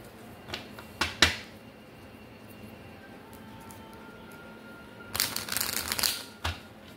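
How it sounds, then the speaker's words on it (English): Tarot cards being shuffled by hand on a table, a few quick riffling bursts and snaps early on, a quiet pause, then a longer crisp shuffling flurry near the end. "Let me shuffle."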